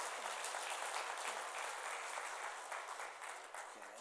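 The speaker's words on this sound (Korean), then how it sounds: "우리 환영의 박수 한번 드리도록 하겠습니다." Church congregation giving welcoming applause, a steady spread of clapping heard at a distance and fairly faint.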